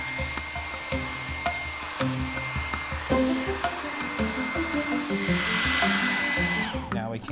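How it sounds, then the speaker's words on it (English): A hair dryer blows with a steady, loud whooshing hum, with clicks and rattling against it, and a voice talks faintly underneath before it cuts off. "I'm actually gonna give it a blast with the hair dryer on a cool setting"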